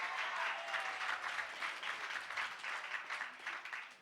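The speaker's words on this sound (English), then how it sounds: "Give him a round of applause." Audience applause for Reverend Sharpton at a NAN birthday gathering, a steady wash of clapping from a crowd that holds even and fairly soft from start to finish.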